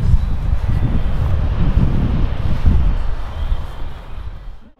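Wind buffets the microphone outdoors at a wakesurf competition site, a loud, steady low rumble that fades slightly toward the end; no speech.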